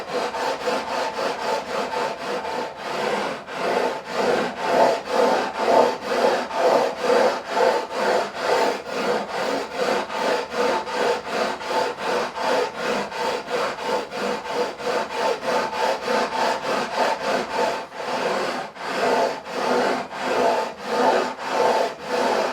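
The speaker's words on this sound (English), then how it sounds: "We're going to hit it again with the 240 grit." Steady back-and-forth abrasive rubbing as 240 grit paper levels the frets on a Warwick Corvette Double Buck bass neck, a close, continuous rhythmic scrape with brief pauses, no voices.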